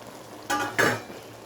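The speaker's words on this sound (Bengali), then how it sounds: "আমি এর মধ্যে কিন্তু এখন আলু দিয়ে দিচ্ছি" Boiled potatoes are tipped into a pan where spinach and dried fish are cooking, giving two short close scraping, sizzling bursts against a quiet kitchen background.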